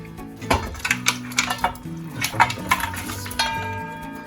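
Cooked mutton goes into a karahi pan, with a series of metallic clinks and clatters of a spoon against the pan over faint background music.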